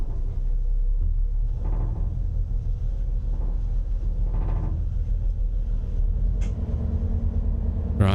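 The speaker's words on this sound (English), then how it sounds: "Right, the engine started." A train engine in Train Sim World 6 starts up and settles into a low, steady rumble, moderately loud and continuous, with no talk.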